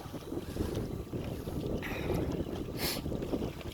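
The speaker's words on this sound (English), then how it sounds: "it's pretty windy out here" Steady, blustery wind roars across the microphone outdoors on a lake, with faint water lapping beneath and no voices.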